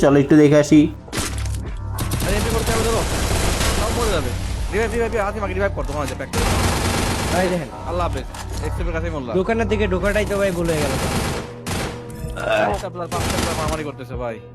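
Rapid gunfire from a shooter video game, with headshots landing, pops and rattles in short bursts, partly buried under continuous talking that runs across most of the stretch.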